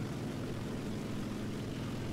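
A D3A1 propeller aircraft engine in War Thunder drones steadily, a loud, even, low rumbling roar with no breaks and no talk over it.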